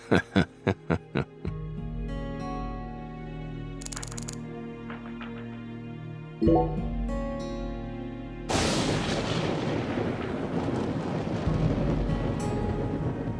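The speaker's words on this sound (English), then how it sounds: "you hear that thunder? It's probably gonna snow." Thunder in the video game Deadly Premonition 2 arrives as a sudden deep boom followed by a long, rumbling roll, loud and broad, after a stretch of quieter game sounds and a few sharp percussive hits.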